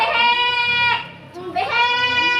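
A person's voice imitates a goat's bleat twice, each a drawn-out, wavering 'mbehe' with a strong harmonic tone. The cries are loud and near, separated by a short dip, as part of a spoken folk tale about a ghost heard at night.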